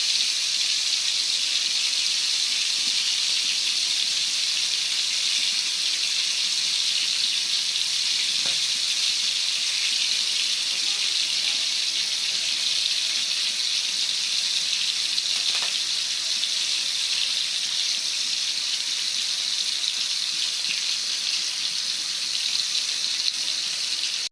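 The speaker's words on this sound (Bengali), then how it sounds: "এই মাছটা ভাজা হোক।" Continuous hissing sizzle of koi fish frying in oil, steady and fairly loud throughout with a couple of faint clinks, no talking.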